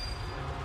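A train rumbles along in the video game Mafia: Definitive Edition, a brief low steady rolling drone of rail cars with no voices.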